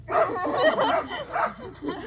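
A dog barks and yips in a short excited burst of several loud, close barks with whimpery tones in between, at home near a pool.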